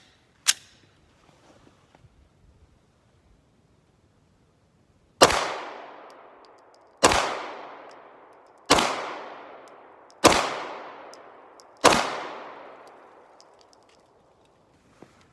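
A Glock 17 9mm pistol fires at a target. One sharp shot comes first, then after a pause five more loud cracks follow at an even pace, each trailing off in a long echo. No voices are heard.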